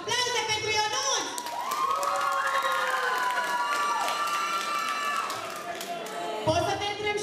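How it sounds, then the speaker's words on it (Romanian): Students cheer, whoop and applaud at a 2017 high school freshman ball at Liceul Teoretic Silviu Dragomir in Ilia: a loud, dense roar of crowd voices and clapping that holds steady for several seconds. "Aplauze pentru Ionuț!"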